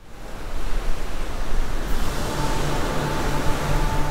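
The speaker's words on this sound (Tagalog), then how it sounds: "Sa kabila ng matataas na alon at malakas na hampas ng hangin" High waves and strong gusting wind roar together at sea near Reed Bank, a loud continuous wash of surf and wind with no speech.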